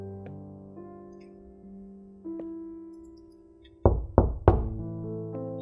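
Three loud, sharp knocks on a hotel door land close together near the end, over soft sustained music with a few earlier light taps.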